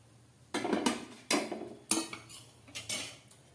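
Several sharp metallic scrapes and clinks of a utensil against a pan come in quick bursts, close by, as a fried vegetable roll is lifted out.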